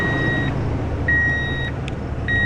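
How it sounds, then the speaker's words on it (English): Repeated electronic beeps from a secondhand vehicle being looked over for purchase, sounding in short, evenly spaced tones over a steady low engine rumble up close. "Beeping."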